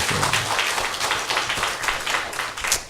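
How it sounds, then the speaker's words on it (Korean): A church congregation claps continuously, the clapping dense, fairly loud and close, with a low murmur underneath. "하나님께 영광의 박수."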